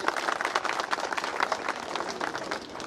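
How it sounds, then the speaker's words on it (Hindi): A crowd at a health camp clapping loudly to welcome a district official, dense steady applause throughout with no pause. "आप लोग जोरदार ताली से स्वागत कीजिए।"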